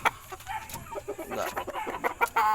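A lemon kelso gamefowl rooster clucks and squawks in agitated, irregular bursts, close and moderately loud, with some faint background noise around it.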